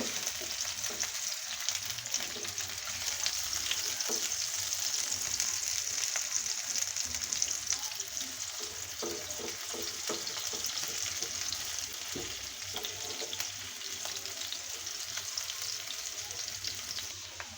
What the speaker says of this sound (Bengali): পেঁয়াজগুলো একটু ভাজা ভাজা করে নেব।